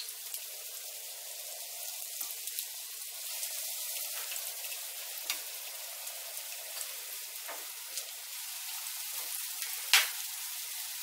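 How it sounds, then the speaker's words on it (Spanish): Lamb ribs frying in hot oil in a pan, a steady soft crackling sizzle with scattered pops throughout, one sharper pop near the end, and no talk. "Para freír las costillitas hemos puesto aceite en la sartén y ahora que está caliente"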